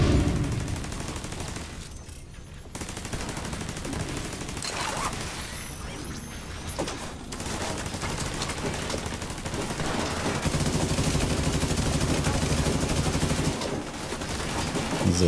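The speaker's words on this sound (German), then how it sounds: "Für gute Freunde habe ich hier ein kleines MG." A small machine gun in The Division 2 fires long, dense, rapid bursts, loud and nearly continuous, broken by a few short gaps and mixed with mechanical clatter.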